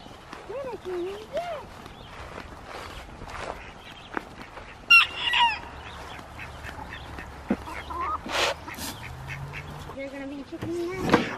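Hens cluck and squawk in a busy coop, with scattered close bird calls, rustling and a few knocks, and a voice speaking briefly between them.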